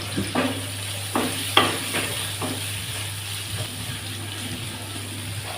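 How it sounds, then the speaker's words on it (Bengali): Chopped onions with whole cardamom and cinnamon frying in oil in a pan, heard as a steady low sizzle with scattered scraping stir strokes and a few light clinks, close and moderately loud. "আর একটু তেল দিয়ে তাতে আস্ত এলাচ, দারুচিনি, কুচি করে রাখা পেঁয়াজগুলোকে দিয়ে কিছুক্ষণ ভেজে নেব।"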